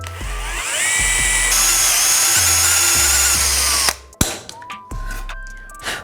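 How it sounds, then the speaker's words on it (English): Close, steady whine of a power drill boring through a clamped steel pipe for about four seconds, with pitch shifts under load, then clanks and handling noises as it stops. "clamp it down, and just drill down the steel pipe."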